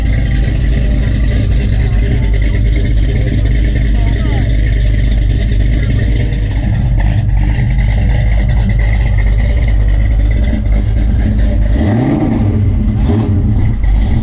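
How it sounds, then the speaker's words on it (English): At the 2023 Pontiac Nationals car show, a car engine fires up and keeps running, a loud steady rumble with a brief rev swell near the end, under crowd noise and some nearby talk. "Something fired up, sounds really good over here."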